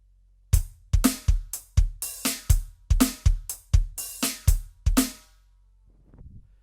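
Roland TD17 electronic drum kit playing a groove with quarter-note hi-hats, the fourth one opened: a dozen crisp, evenly spaced hits with short decays over about five seconds, close and dry, then a faint tail.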